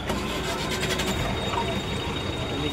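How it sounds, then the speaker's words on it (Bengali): A luxury business class bus on the Kolkata to Siliguri route runs its engine at a steady idle, giving an even, close-up drone of rumble and hiss with no breaks. "বাসের ইঞ্জিনের আওয়াজটা শোনো"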